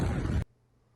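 Footage of the Beirut port explosion: a loud, dense roaring blast fills the first half second, then cuts off abruptly into near silence with only a faint low hum remaining.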